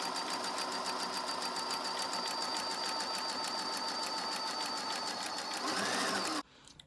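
A sewing machine stitches fabric for a cable tie reinforced face mask, a steady rapid mechanical whir held for about six seconds before stopping abruptly, close by with no talk.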